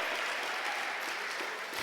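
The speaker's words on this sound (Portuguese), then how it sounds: "Por favor, aplauda ao Senhor." A church congregation at a baptism service claps together in a dense, steady wash of applause, with no pauses.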